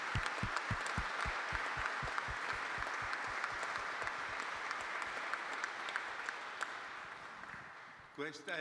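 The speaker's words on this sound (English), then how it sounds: "I'd like to give them an applause." An audience at a formal presentation for the 1000 Miglia 2023 gives sustained applause, with a steady pulse of rhythmic low thumps running underneath. It tapers off near the end, where a voice briefly begins speaking.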